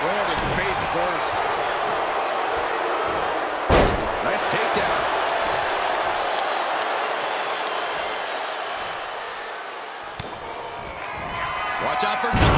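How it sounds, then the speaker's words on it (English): A wrestler is slammed face first onto the ring mat during a 2 out of 3 falls no holds barred match, a sharp thud over steady crowd noise, with another impact later amid the arena roar. "God, slamming face first."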